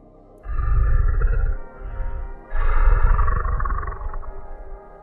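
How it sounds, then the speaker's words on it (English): A large animal growls low and raspy, in two long swelling bursts separated by a brief dip, close and heavy like wet breathing on the exhale. "Low and wet, raspy on the exhale. A large animal trying to keep quiet."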